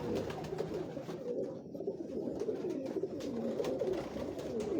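Tiger pigeons, a dab-type breed, coo in a steady low murmuring chorus on a Lahore rooftop, continuous and close, with faint higher ambient noise above.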